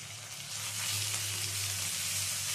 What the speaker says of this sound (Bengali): পেঁয়াজের পাপড়িগুলো দিয়েও একটু হালকা করে ভেজে নিতে হবে